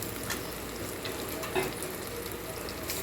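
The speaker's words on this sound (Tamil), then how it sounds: "இப்போது சின்ன வெங்காயம் இஞ்சி பூண்டு எல்லாம் போட்டு ஒன்றா வணக்கிடலாம்" Shallots, ginger, garlic, curry leaves and mint sauté in hot oil for a banana kola urundai snack, giving a steady, soft sizzle and crackle close by with no talking.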